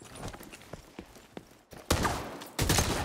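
Gunfire in the game The Division 2 during a co-op firefight: after quieter rustling and footstep-like taps, two loud sustained bursts of rapid shots erupt close up, the second following a brief gap.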